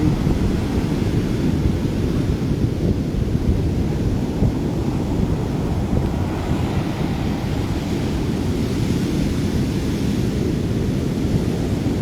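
Continuous heavy roar of stormy surf during a typhoon, with wind rushing across the microphone, loud and unbroken throughout, no voices.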